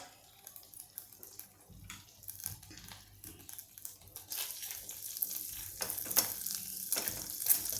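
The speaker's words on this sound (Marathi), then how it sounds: "माझं हे बटर चांगलं तापलेलं आहे तर त्याच्यामध्ये आपण आता हा लसूण टाकूया" Garlic frying in hot butter for a ragi ravioli dish, a steady crackling sizzle that grows busier and louder toward the end, with faint stirring and no voices.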